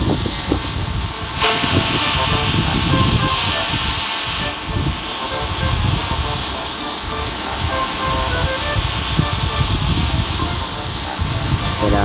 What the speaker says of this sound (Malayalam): ഇതെന്തോ ഇവൻ ഡ്രോൺ എടുത്തിട്ട് ആണ് പോവും